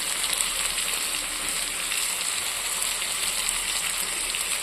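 Tomato, chilli powder and spices frying in oil for a Bengali-style pomfret fish curry with eggplant, a steady dense hiss of sizzling that stays even and close throughout, with no talk.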